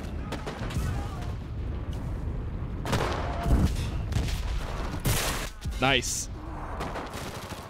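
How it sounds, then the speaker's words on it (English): Dense gunfire and explosions from the Pacific War campaign of the Enlisted game, with rapid bursts, sharp cracks and a few heavy booms layered into a continuous battle din, while a voice briefly speaks over it. "There's so many shots and explosions going"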